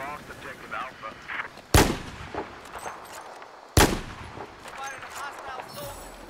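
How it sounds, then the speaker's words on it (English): Two sharp, loud gunshots ring out a couple of seconds apart in the shooter game Battlefield 4, each cracking hard over quieter crackling fire and occasional voices talking in the background. "Getting shot at."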